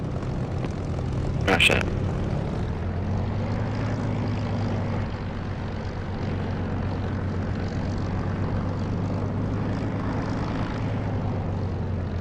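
Spitfire in the DCS flight simulator taxiing to the centre runway for an eastbound takeoff, a steady droning piston engine hum throughout with a brief burst of noise early on and a short spoken remark.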